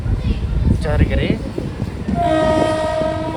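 A passenger MEMU train pulls out of Pakala junction, its horn sounding a sustained harmonic blast in the latter half, preceded by a brief earlier honk and rumbling rail noise, with some talk mixed in.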